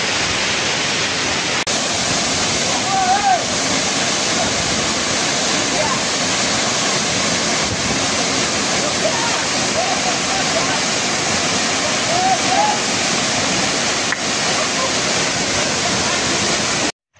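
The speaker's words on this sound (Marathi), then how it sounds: "अचानक हुडकून काढलेला धबधबा आहे." An unnamed waterfall at Tamhini Ghat pours in a loud, unbroken broadband roar close by, with voices faintly audible beneath the rush.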